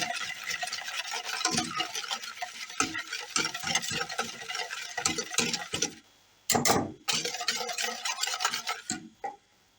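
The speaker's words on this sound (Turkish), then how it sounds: "bir su bardağı şekerimi bir su bardağı irmiğimi Biraz çırpıyorum" Sugar and semolina whisked together in a bowl for a light milk pudding, a busy scraping, rattling whisk going steadily and close, pausing briefly near the end before resuming in short bursts.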